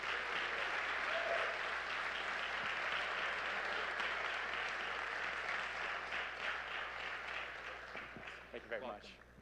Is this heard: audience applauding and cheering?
yes